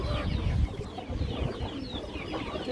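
At a pigeon sale with moulting birds in the stock, many pigeons coo and flutter close by in a dense, continuous chorus, with no clear speech.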